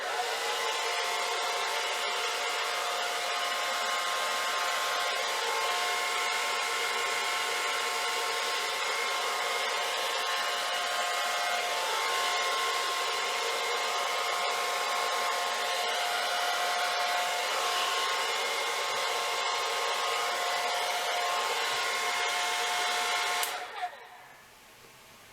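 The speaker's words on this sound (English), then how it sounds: "I'm going to try to use the blow dryer on it." A blow dryer runs continuously while drying an acrylic pour painting, a loud steady whirring hiss held for over twenty seconds before it abruptly cuts off, with no talk.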